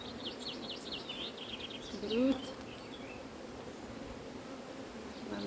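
A full, bursting beehive buzzes with a dense, steady drone of honeybees, heard close and continuous, while birds chirp faintly in the background and a voice speaks a single word briefly.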